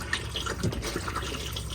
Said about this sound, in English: and you'll get a flow of water into the bowl